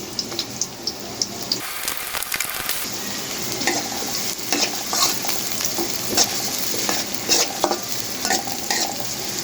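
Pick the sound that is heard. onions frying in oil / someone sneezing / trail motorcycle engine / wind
onions frying in oil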